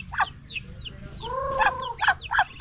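Chickens on a rural farm in Carmen, Agusan del Norte, cluck and chatter in a loose, uneven series of short calls with a couple of drawn-out notes, moderately close against a faint outdoor background.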